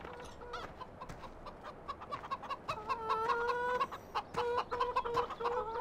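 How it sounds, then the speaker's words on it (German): Chickens cluck and murmur in the Farming Simulator 17 game on the Südhemmern map, a soft, steady flock chatter that grows busier midway, with a few sharper drawn-out calls and no talk. "Hier sind ja die Hühner hingewandert."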